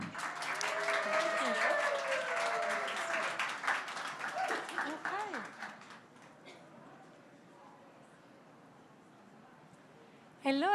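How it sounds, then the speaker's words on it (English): Audience applause for a speaker at a design talk, full and lively for about six seconds before quickly dying away to quiet room tone. "So let's give a big round of applause for Elettra."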